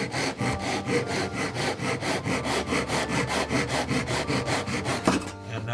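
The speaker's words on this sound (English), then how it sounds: "Another way to do it is simply use the saw." A hand saw cuts through wood in steady back-and-forth strokes, about three per second, loud and close, with no talking until the cut finishes and the rhythm stops near the end.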